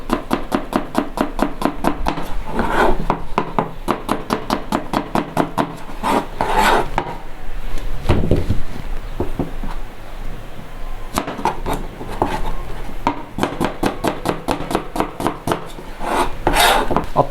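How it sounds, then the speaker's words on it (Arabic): A knife slices an onion rapidly and repeatedly on a cutting board, crisp close-up strokes in quick bursts with a short pause midway. "بقطع البصل زلف، باخذها بالنص هيك"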